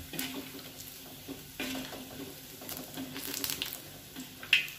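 Pempek fish cakes frying in hot oil, a steady sizzle broken by stirring and scraping as the pieces are turned, with a brief clink near the end; no talking.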